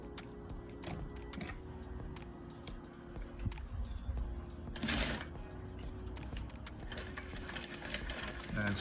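Sewing machine stitching a welt pocket, rapid mechanical clattering in short runs and pauses at close range, with faint background noise and brief handling sounds.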